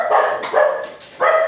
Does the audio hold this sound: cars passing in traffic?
no